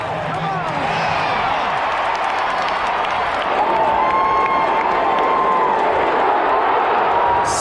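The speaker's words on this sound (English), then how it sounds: "Just listen to this crowd if he gets it" A baseball crowd at Citi Field during a Mets game cheers and applauds loudly, a sustained roar of many voices and clapping that swells and holds, with whistles and shouts rising out of the wash.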